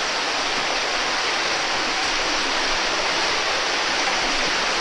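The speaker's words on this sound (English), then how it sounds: "this little tunnel, the waterfall runs into" A waterfall pours into a small tunnel, producing a steady, dense roar of rushing water that fills the space continuously and loudly without a break.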